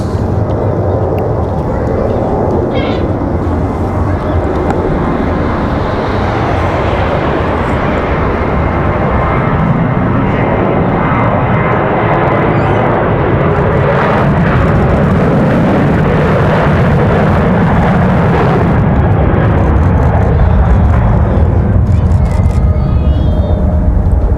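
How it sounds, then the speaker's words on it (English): A Delta Boeing 737 jet takes off from Raleigh-Durham airport with a loud, continuous roar that swells and rumbles for the full stretch, heard from nearby outdoors. "Nice speedy departure there for that 737"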